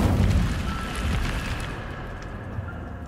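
Incendio fire spell cast in Hogwarts Legacy: a loud whooshing burst of flame with a heavy low rumble that swells at once, then fades over a few seconds into a softer crackling tail.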